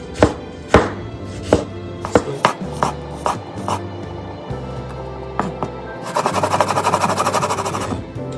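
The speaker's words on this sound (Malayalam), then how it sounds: "വെളുത്തുള്ളി സ്ലൈസ് ചെയ്യാം കേട്ടോ." A knife slices garlic on a cutting board, a series of sharp, close, irregular chops that give way to a quicker run of rapid chopping near the end.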